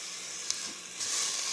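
Finely chopped onion fries in a thin film of oil in a pan, a soft continuous sizzle with faint crackles, heard alone and fairly quiet.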